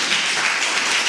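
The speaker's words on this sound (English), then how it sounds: "More hands of applause to him" Sustained applause from a conference audience, a dense, even wash of many hands clapping at steady loudness without pause, with no voices over it.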